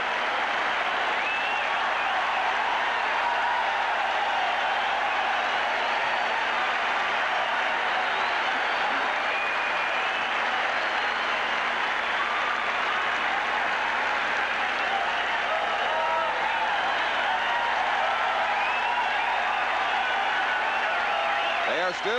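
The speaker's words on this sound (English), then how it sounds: "it's a standing ovation for Yaz" A Fenway Park stadium crowd gives Carl Yastrzemski a standing ovation on opening day 1983, sustained dense applause and cheering from a huge crowd, steady and loud for the whole stretch, with a broadcaster's voice faintly underneath.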